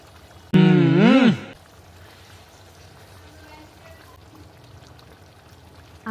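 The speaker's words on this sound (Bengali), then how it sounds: "এর সাথে 3 কাপ পরিমাণ গরম পানি দিয়ে দিলাম" About three cups of hot water are poured into Mejbani meat cooking in a pot, a loud gushing splash lasting about a second. A faint, quiet simmer follows.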